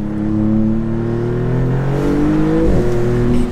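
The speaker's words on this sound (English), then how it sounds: "when you come out of a corner and you get on the gas, it's got some grunt, this car" Maserati MC20 Cielo supercar engine pulling hard out of a corner, a loud close-up rising growl with climbing harmonics and a brief gear-change dip before revving on.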